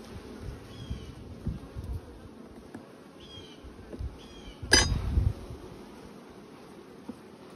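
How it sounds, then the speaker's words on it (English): Honey bees hum steadily at a hive full of nectar, a soft close buzz with faint clinks and one sharp knock midway. "These bees are gathering nectar."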